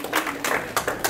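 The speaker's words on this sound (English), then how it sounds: "Round of applause for her." Scattered hand claps from a small group, brief and fairly soft, a few distinct bursts rather than full applause.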